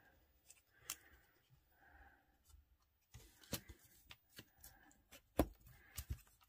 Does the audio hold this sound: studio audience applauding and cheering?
no